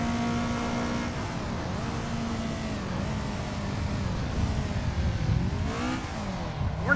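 A Toyota Corolla engine held at redline in a racing simulator with only five gears, a steady loud high-pitched whine that dips and climbs as the revs shift, running continuously.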